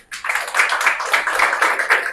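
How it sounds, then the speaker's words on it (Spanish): A church congregation applauds in a brief, dense burst of clapping that starts suddenly and holds steady for about two seconds. "Denle un aplauso al Señor"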